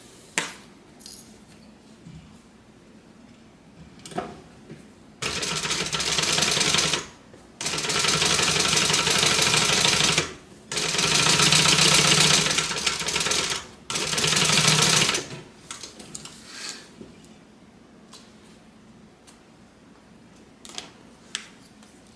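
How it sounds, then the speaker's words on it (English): A sewing machine top-stitches a fabric clutch in four sustained runs of rapid, even stitching, separated by pauses filled with small handling clicks and taps. "And we're going to top stitch."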